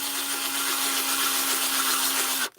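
A power drill bores a hole into a plastic Spider-Man action figure during a symbiote Spider-Man customization, giving a steady, loud whirring grind for about two and a half seconds before cutting off abruptly.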